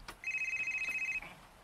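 Mobile phone ringtone chiming in a rapid, steady electronic pulse for about a second, clear and fairly close, with no talking over it.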